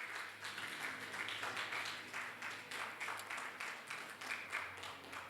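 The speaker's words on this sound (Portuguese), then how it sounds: "Pode aplaudir a Jesus Cristo?" A church congregation applauds in a quick, steady patter of many hands, heard from a moderate distance, sustained throughout without any voices.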